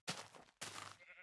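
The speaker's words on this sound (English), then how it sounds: "I just found some nice sheep." Two loud, close sheep bleats from Minecraft, each a short wavering cry, the second following right after the first with a brief gap between.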